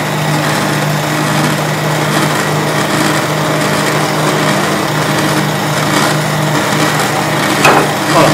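An electric mixer whipping egg whites as hot cooked sugar syrup is added, a steady high motor whir with a faint droning hum running continuously and loud, no talk.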